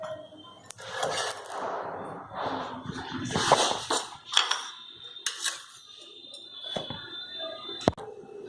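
Toasted pav buns set down onto a plate in a home kitchen while making pav bhaji, giving a few light clinks and scrapes of dishes and utensils, close and moderately loud with no talking.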